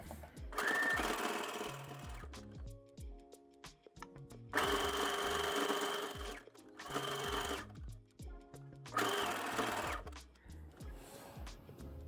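A sewing machine stitching a 3-step zigzag over elastic on knickers, running in several steady whirring bursts of a few seconds each, separated by brief pauses, close and clear.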